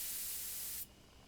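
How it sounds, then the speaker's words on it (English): A short, steady hiss of bug spray from a sprayer in the video game Spirit Hunter: Death Mark, lasting under a second before cutting off to faint background noise. "Take careful aim and spray the bugs."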